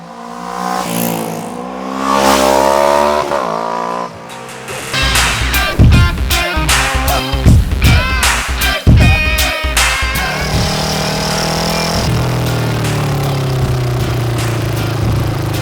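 A race-tuned Kawasaki Ninja 650 engine revs up loudly, then fires off a burst of sharp, stuttering throttle blips and pops before settling into a steady, high droning run.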